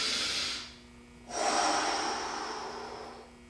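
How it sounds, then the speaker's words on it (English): Slow breaths drawn in through the nose during forearm stretches, each a close, airy intake that rises, then fades before the next breath. "breathing in through your nose."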